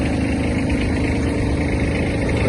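A Kubota GB-15 mini tractor runs steadily with its PTO shaft turning the blades, a loud, continuous close-up engine drone with a dense rumble that holds even throughout.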